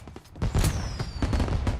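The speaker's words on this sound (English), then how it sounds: "Right, Tommy gun." A Tommy gun firing in Mafia Definitive Edition, loud close bursts of rapid automatic shots with a brief pause before a sustained volley.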